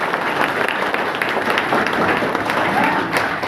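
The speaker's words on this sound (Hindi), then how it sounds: "इनके लिए पहले बहुत जोर से तालियां बजाओ" A crowd at an SSC GD coaching gathering claps loudly and continuously, a dense, close-sounding burst of applause that fills the whole stretch with no speech over it.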